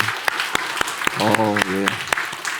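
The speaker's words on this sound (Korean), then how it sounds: "박수 한번 해주세요." A church congregation at a Sunday morning service gives scattered, sparse claps, and a voice speaks over the clapping.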